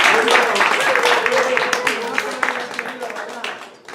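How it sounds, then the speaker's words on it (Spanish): Applause from a seated audience at a panel discussion on cultural diversity in Spain, steady clapping that thins out toward the end, with voices mixed in. "Bueno, pues te vamos a dar un aplauso, Laura."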